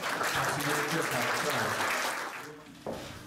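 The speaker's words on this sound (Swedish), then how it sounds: "En stor applåd för juryn." Audience applause for the jury at a Swedish award ceremony, a broad steady clatter of clapping that carries for most of the moment before thinning out, with voices mixed in.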